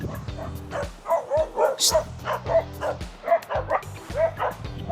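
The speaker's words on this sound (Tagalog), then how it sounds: "Dami nga lang aso." Several dogs bark and yip repeatedly at a remote nature spot, moderately distant, while a person hushes quietly over them.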